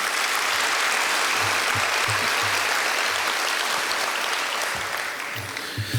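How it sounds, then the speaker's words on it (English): Banquet audience at a university baseball banquet giving a big round of applause, dense sustained clapping filling the room, easing slightly toward the end. "let's give those guys a big round of applause"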